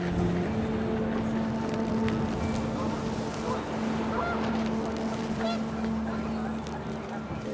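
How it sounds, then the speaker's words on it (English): Panicked geese honk in the video game What Remains of Edith Finch, brief calls scattered over a steady hum and wind-like rumble, with a low engine drone toward the end. "panicked geese appeared and quickly went"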